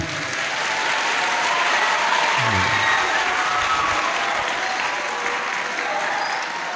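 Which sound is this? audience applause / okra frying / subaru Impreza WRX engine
audience applause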